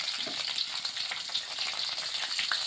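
Nigella seeds and three or four green chillies crackle in hot oil for a cauliflower curry, giving a steady, dense sizzling hiss with small pops, close and constant, with no talking.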